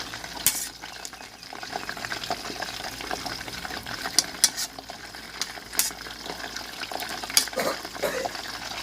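Crispy pork belly deep-frying slowly in oil over low heat, a steady soft sizzle and bubbling with occasional sharp clinks and stirring noises, no talking.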